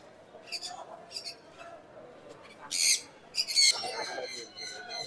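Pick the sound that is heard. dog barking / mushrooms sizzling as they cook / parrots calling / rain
parrots calling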